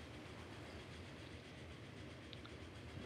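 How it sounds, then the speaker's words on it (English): A train rolls along in the Transport Fever railway game, a faint steady rumble of rail noise with soft rhythmic wheel clatter and no talk. "Another train approaching."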